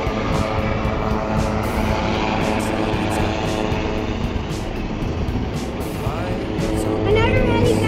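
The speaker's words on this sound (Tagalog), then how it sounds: "helicopter. Where?" A steady, broad engine drone rolls on without letup, with a rhythmic thudding underneath, as a helicopter passes over a cruise ship in Alaska while people talk nearby.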